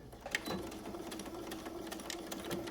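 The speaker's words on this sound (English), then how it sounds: "I'm going to back stitch using a regular length stitch." A domestic sewing machine back stitches at regular stitch length, giving a steady, close motor whir with rapid rhythmic needle clatter running continuously.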